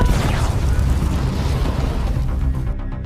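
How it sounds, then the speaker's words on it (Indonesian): Explosion in a war film about twelve US soldiers fighting Taliban forces in eastern Afghanistan, a loud deep boom followed by sustained rumbling debris and roar that slowly thins out. "akibat ledakan tersebut"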